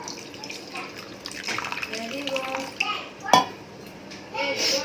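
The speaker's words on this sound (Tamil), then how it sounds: "கொஞ்சம் வந்து நல்லா தண்ணி ஊற்றி" Water poured into a pan while preparing a Tamil-style herbal kashayam cold and cough remedy, a soft splashing under a woman's speech, close by in a home kitchen.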